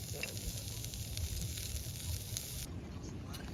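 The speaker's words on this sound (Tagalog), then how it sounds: "ito na yung ating carrots at sitaw stir fry" Carrots and string beans stir-fry in a pan at a campsite, giving a steady close sizzle with a hissing layer over it and faint stirring, with no talk.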